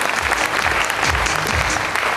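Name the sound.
audience applause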